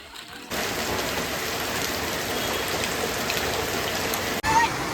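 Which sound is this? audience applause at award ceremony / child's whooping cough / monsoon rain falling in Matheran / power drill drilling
monsoon rain falling in Matheran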